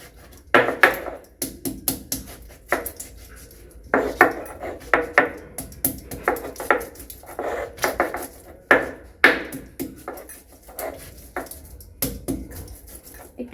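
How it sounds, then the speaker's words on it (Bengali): Spices being pounded and ground on a stone shil-pata slab with a stone roller, a run of sharp irregular knocks and scraping strokes, close and fairly loud with no talking. "একটু বাড়ি দিয়ে দিয়ে পিষতে হবে।"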